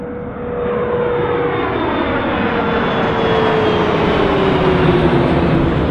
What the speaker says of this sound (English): runway 1, clear for takeoff